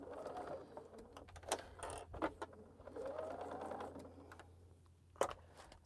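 A sewing machine stitches a tote bag during a quilting session, running in short bursts of rapid mechanical clatter separated by brief pauses and small clicks, close and moderately loud.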